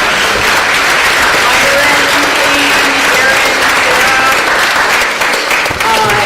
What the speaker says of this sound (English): Give these guys a round of applause.